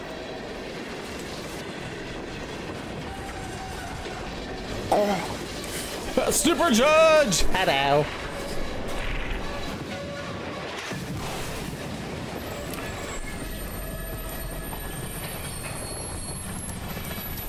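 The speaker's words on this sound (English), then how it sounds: "Why did you crash the damn train?" A subway train in the video game Find Yourself rumbling and screeching as it crashes, with squealing wheels and metallic clatter peaking midway, while someone talks and shouts over it.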